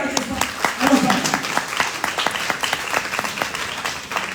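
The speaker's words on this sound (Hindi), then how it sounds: "मैं चाहता हूँ ऐसे गुरु के लिए एक जोरदार ताली" A loud crowd at an Indian wellness company's stage event bursts into applause, dense clapping swelling and then continuing steadily with scattered sharper claps.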